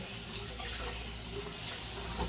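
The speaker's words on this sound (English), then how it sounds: "Wash off the raw egg." Tap water runs steadily into a kitchen sink while raw egg is washed off, a constant close hiss with no talking.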